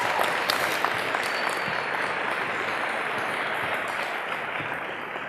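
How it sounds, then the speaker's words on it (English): A school audience applauding Officer Tim Evans at an Arrive Alive event at Blaine High School, a broad, even roar of many people clapping that holds steady and fades slightly toward the end. "Let's give him a round of applause, please."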